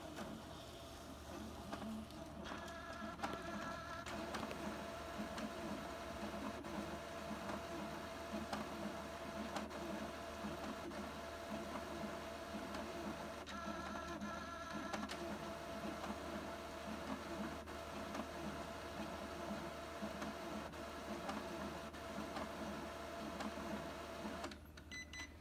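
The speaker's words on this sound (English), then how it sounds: "And it is printing." An Epson XP-8500 photo printer runs a print job, its steady mechanical whirring and motor drone continuing for the whole stretch with brief pauses in feed, close by and moderately loud, with no talk.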